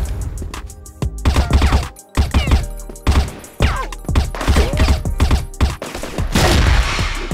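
Gunfire in an online shooter game comes in rapid bursts of shots, loud and close, with short pauses between volleys and a few sharp impacts.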